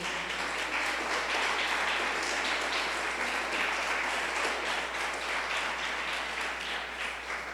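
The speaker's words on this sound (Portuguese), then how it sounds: "Aplauda a Jesus." A church congregation applauds during a sermon, a steady wash of many hands clapping at once, moderately distant and filling the room without a break.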